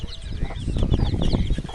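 A restless mother hen clucks in quick, close bursts, a run of short throaty notes in steady succession with nobody talking.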